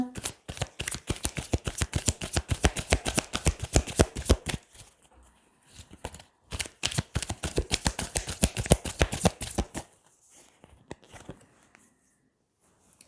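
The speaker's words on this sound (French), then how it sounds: "Je vais retirer une autre carte." Tarot cards are shuffled and drawn in quick, dense rhythmic bursts of papery riffling, close and crisp, broken by a brief pause before a second long run and a few final soft card flicks.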